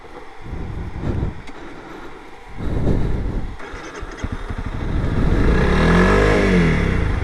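A Honda CRF300L Rally dual-sport motorcycle on a rocky single-track trail revs loudly and roughly, rising in pitch before the engine stalls, with steady close engine noise throughout.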